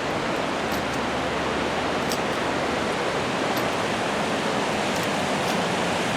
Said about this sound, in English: the dam and waterfall is very active